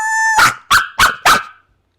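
A person imitates a dog, giving four loud, close barks in quick succession: a longer whiny opening yelp followed by three short, evenly spaced woofs, with nothing else heard.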